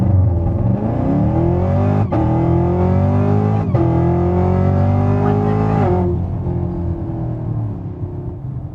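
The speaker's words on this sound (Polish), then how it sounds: "Guma spalona, przejażdżka Camaro zaliczona." A Chevrolet Camaro ZL1 rated at 700 hp and 990 Nm accelerates hard with a loud, close engine roar that climbs in pitch through gear changes. Tires squeal as they burn, then the sound settles into a steadier rumble.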